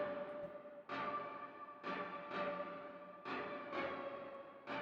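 Verse synth from a remake built in FL Studio, a bright sustained chordal pad with a steady tone, re-struck in rhythmic swelling hits about every second, loud and alone.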